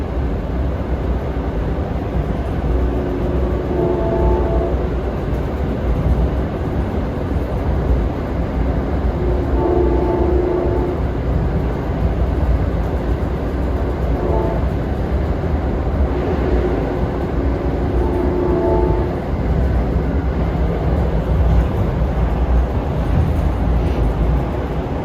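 Inside CT Rail train 4407 running from Springfield to New Haven, a steady low rumble of wheels on track fills the whole stretch, with faint tonal hums rising and fading now and then. Nobody talks.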